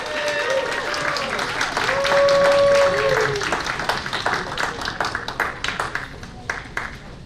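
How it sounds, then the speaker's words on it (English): Crowd clapping at a Hmong American Caucus kick-off community event, applause swelling under a brief voice and cheer, then breaking into distinct close claps that thin out toward the end. "Clap louder, I want to hear you guys, yes."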